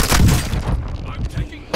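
Heavy gunfire booms in Call of Duty: Modern Warfare II, a loud rumbling burst of shots followed by scattered reports and another sharp crack at the end, with a voice speaking over the battle.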